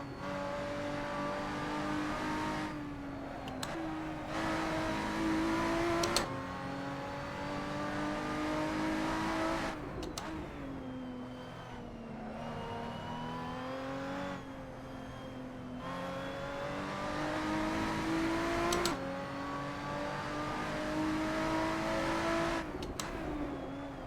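Lotus 3-Eleven race car in Assetto Corsa at Mugello, engine howling near and loud with repeated revving climbs, sudden drops at gear shifts and braking, continuous for about twenty-four seconds, no talk.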